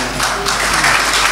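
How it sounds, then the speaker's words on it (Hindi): At a poetry event, a crowd claps in a brief, loud burst of dense applause lasting only a moment. "अपने अपने लिए ताली बजा दें आप लोग।"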